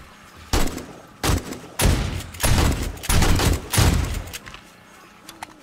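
Automatic turret gunfire in Fortnite, five loud bursts of rapid fire at roughly one-second intervals with quieter gaps between them.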